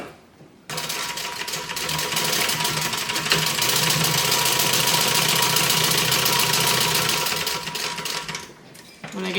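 A sewing machine back stitching over bag zipper teeth runs in one steady, close mechanical whir for several seconds before stopping.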